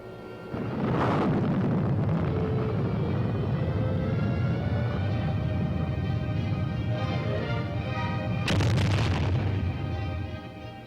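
Army Lacrosse surface-to-surface missile launches with a sustained, heavy roaring blast that holds steady for several seconds, with a sharper burst toward the end before it begins to fade.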